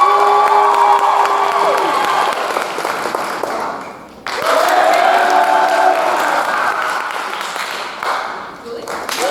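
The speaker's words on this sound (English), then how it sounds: "You all are going to applaud for whoever you like most." At a high school improv show, an audience breaks into loud clapping and cheering with whoops, which dips briefly and then surges again as a second round of applause.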